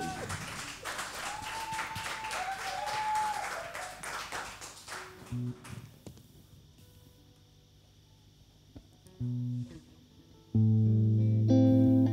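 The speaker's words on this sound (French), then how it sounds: "On l'applaudit bien fort." Live-show audience applauding a singer at the start, a dense burst of clapping under a host's talk that fades after about five seconds into quiet stage sounds and tones.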